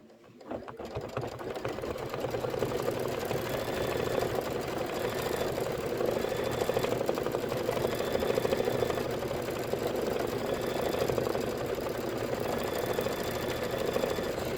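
Kimberbell embroidery machine stitching a design, a steady, close mechanical hum with a rapid repetitive needle rhythm that starts up and then runs evenly throughout.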